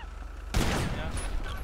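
Gunfire in GTA breaks out suddenly as a loud burst of rapid shots that overlap into a dense volley, following a low background hum.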